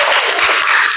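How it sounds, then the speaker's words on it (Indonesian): Classroom applause for a student presentation group, a dense burst of many hands clapping together, loud and close, filling the short moment without any talk over it. "Ya, kasih tepuk tangan buat kelompok 1."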